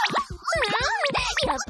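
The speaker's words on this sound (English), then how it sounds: "squeezing sound effects helps us the viewer know that the butt is being squeezed" Anime squeezing sound effect from a butt-squeezing scene: a run of rubbery, squeaky stretches and squelches in quick uneven bursts, close and fairly loud, with no talk.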